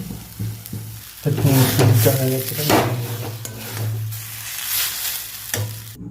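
Semolina sizzling in a pan as cashews and raisins go in and get stirred, with steady frying hiss under repeated scraping and stirring strokes.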